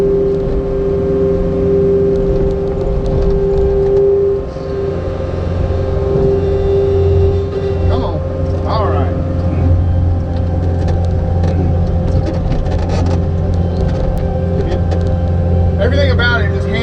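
An ASV skid steer's engine runs with a steady low drone and hum from inside the cab, while someone talks over it at intervals.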